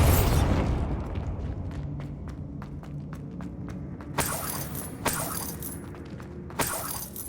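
A Bombarda blasting spell goes off in Hogwarts Legacy, a loud broadband blast at the start followed by scattered debris clatter and sharp impacts, with several further crackling bursts later on.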